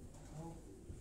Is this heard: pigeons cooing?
yes